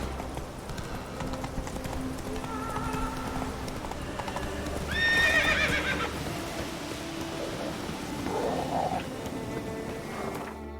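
Roach the horse in The Witcher 3 video game, clip-clopping hooves at a steady gallop rhythm with a loud neigh midway, over ambient weather and music.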